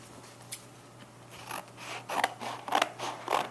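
Scissors cut along drawn lines to free a cardboard triangle for a papier-mâché armature, giving close, crisp crunching snips in a quickening series, with no talk.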